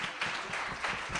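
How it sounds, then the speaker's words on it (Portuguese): A church congregation applauding during a worship service, a soft, fairly distant wash of many hands clapping with faint rhythmic pulses running through it. "Aplauda Ele em nome de Jesus."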